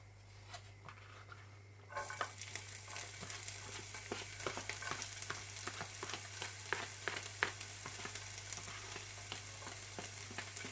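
Onions sautéing in a lightly oiled pan for Caribbean-style meatballs: a steady crackling sizzle that jumps up after about two seconds and stays dense and close, peppered with sharp pops and the odd scrape, with no talking.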